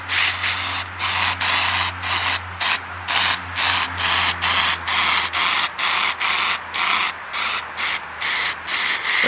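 Zinc coating sprayed onto copper zapper paddles from a can in short, loud, hissing bursts, repeated about twenty times in a fairly even rhythm.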